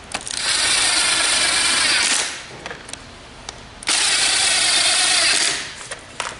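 Power drill driving screws into a wooden bluebird house, two long whirring bursts of a couple of seconds each separated by a short pause, close and loud.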